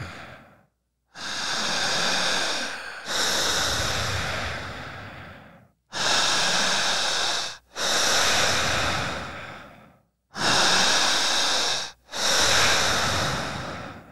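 Forceful, rapid breathing exercise during a guided session, with long loud breaths in pairs separated by brief pauses, close and rushing, repeating three times.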